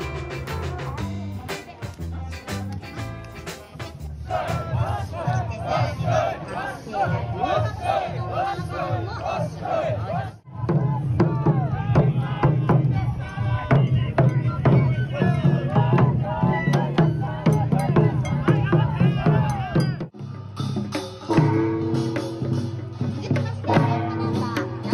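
Dense festival crowd noise at the Hakata Dontaku Golden Week parade in Fukuoka, loud and continuous with cheering, chanting voices and music. There are a couple of brief drops in the din.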